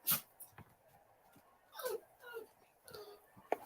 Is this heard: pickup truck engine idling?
no